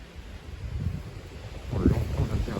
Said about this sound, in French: Aujourd'hui, c'est assez venté.